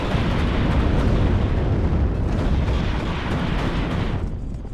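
Continuous barrage of unit fire and explosions in the real-time strategy game WARNO, with loud, dense booms and rumbling blasts packed together for several seconds without a break.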